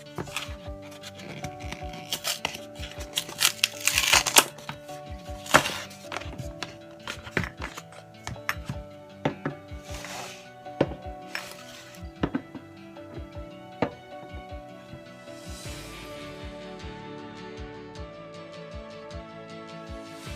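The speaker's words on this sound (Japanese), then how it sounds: "ではまず、IKEA の方から開封していきます。" Someone unpacks IKEA glass jars, with a steady run of close taps, clinks and rustling handling noises of glass and packaging, moderately quiet with no talking.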